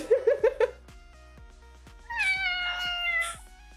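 A house cat meows four times in quick succession, close and loud, then falls quiet before a longer drawn-out wavering meow or yowl near the end.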